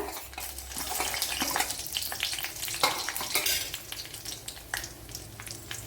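Mustard seeds and dried red chillies fry in coconut oil, giving a busy crackling sizzle with frequent sharp pops and spatters over a continuous hiss, plus faint clinks of a pan.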